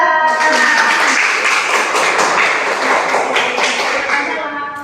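Classroom applause for a student group after an Islamic prayer-etiquette teaching practice, a dense burst of close hand claps that starts abruptly, holds steady, then tapers slightly near the end.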